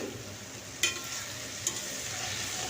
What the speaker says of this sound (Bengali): আমি প্রথমে কষে নিচ্ছি আলুটাকে